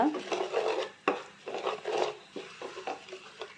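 A utensil scrapes and clinks while stirring spices in an unheated pan for mango pickle, several short stirring strokes, close and fairly quiet.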